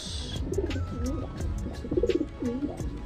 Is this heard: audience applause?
no